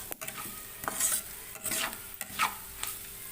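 Ladies finger gravy sautéing in a pan, with several distinct scraping strokes of a spoon stirring over a soft, low sizzle, close and fairly quiet, with no voices.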